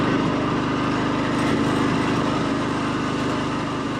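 Engine of a 1954 Harley-Davidson KH motorcycle runs steadily and close, a constant buzzing drone with no change in speed and no voices.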